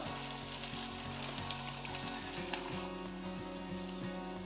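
Ground spice paste, turmeric powder, chopped tomato and red chilli powder fry in a pan for a fish-head muri ghonto, making a continuous soft sizzle with a few faint stirring taps and no voices.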